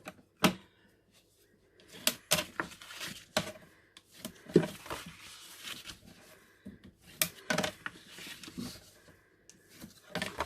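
Navy cardstock being folded and burnished for a Stampin' Up hinged lidded box: scattered sharp creasing clicks and soft rubbing swipes, close and fairly quiet, arriving in irregular bursts with pauses between.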